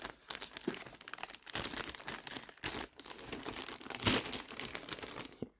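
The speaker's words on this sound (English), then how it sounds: "There's just a lot of tape. I can just rip it out." Tape being ripped and crinkled off the packaging of an E-flite Habu STS 70mm EDF jet during unboxing, close-up, with continuous rustling, tearing bursts and a louder rip near the end.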